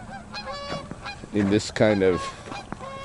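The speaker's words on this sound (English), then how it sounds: "this is a goose" Goose honking close by, two loud bursts of harsh calls in the middle with fainter honks around them, and a brief voice underneath.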